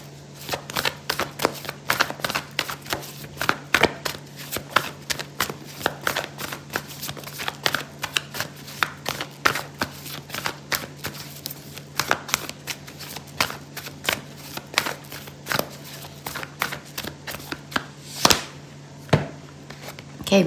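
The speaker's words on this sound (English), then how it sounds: "I'm going to pull out an oracle card for you" Oracle cards being shuffled and drawn at a tarot reading, a rapid run of crisp riffling flicks and slaps continuing for the whole stretch, close and fairly loud over a low steady hum.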